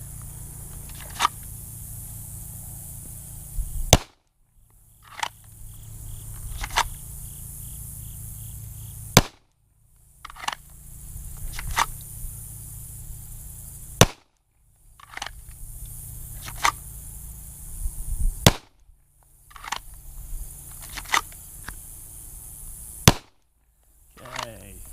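A Glock Gen 5 pistol fires during a drawing drill: a series of sharp, loud single shots with the recording cutting out between segments, several shots spaced irregularly across each stretch, with some talk in between.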